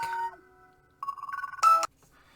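A mobile phone rings with an electronic tone, sounding in short melodic pulses and ending in a louder bright burst before cutting off; the call is spam.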